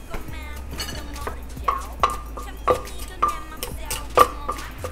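Close scraping and clinking of a utensil stirring a spicy chilli sauce with lemon in a bowl, in an uneven rhythm of short strokes with a few sharper taps against the side.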